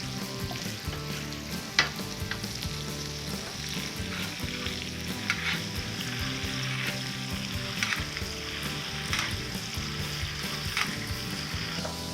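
Chicken being basted in a hot pan sizzles and spatters steadily, with occasional sharper crackles and spoon scrapes, close and fairly loud, with no talking.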